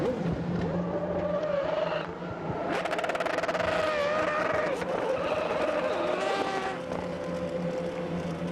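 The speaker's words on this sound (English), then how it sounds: "So cars gradually filling the grid here at Moscow Raceway" Race car engines rumble and rev on the starting grid at Moscow Raceway before a World Series by Renault race, with rising whines and a crowd in the background.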